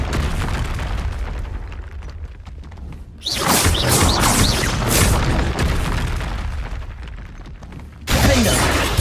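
Spell combat blasts in the Hogwarts Legacy video game: booming, crackling bursts that sweep in loudly and hold for several seconds, then a second sharp blast near the end, over a rumbling game background.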